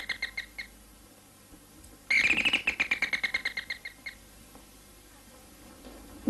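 An electric doorbell at the front door of a home in an old Egyptian TV drama gives a loud, rapid buzzing trill lasting about two seconds, preceded by faint short chirps, with no voices.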